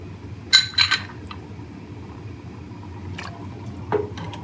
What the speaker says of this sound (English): just ladle yourself some miso